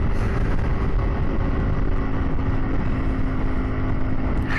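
A Kawasaki Z125 Pro motorcycle ridden at 45 to 50 miles an hour gives a loud, constant rush of engine drone and wind roar, steady throughout with no speech.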